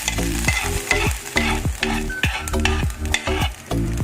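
Ginger and curry leaves fried in oil are stirred into yogurt for Kerala sadhya-style inji thayir, giving a steady run of close scraping, stirring strokes with a faint sizzle. No voices are heard.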